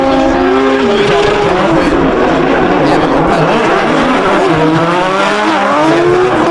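Kevin Quinn's race car in a rally-style competition roars past at full throttle, the engine note rising and falling through gear changes with some tire noise, loud and close under an excited commentator's running talk.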